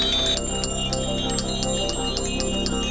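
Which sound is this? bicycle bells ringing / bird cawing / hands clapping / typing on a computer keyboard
bicycle bells ringing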